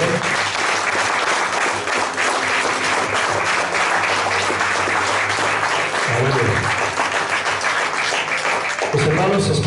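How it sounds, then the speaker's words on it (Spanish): Church congregation applauding loudly and steadily for the full length, a dense wash of clapping that dips briefly near the end, with faint voices mixed in. "Demos otro aplauso fuerte a él,"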